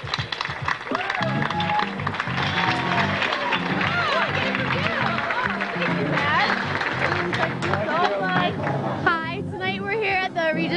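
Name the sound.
audience applause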